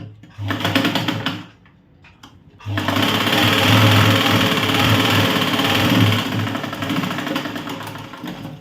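A sewing machine stitches blouse fabric in a fast, loud, steady whir, with a short burst, a brief pause and then a long continuous run of stitching close up.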